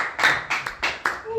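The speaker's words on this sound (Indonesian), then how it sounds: "Tepuk tangan dulu dong Bung Pacaldin." A few people clap briefly to welcome a guest in a casual indoor setting, four or five loose, close hand-claps in an uneven rhythm, with voices talking faintly in the background.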